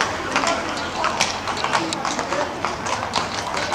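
Horse hooves clip-clop steadily on the street during a village parade in Las Navas del Marqués, mixed into a lively crowd din with people chatting loudly nearby.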